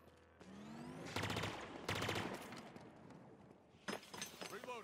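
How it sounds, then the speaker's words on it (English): Burst rifle firing in the video game Halo Infinite, several sharp rapid bursts of gunfire close and loud, with game effects between them and a voice talking over parts. "This is a burst gun."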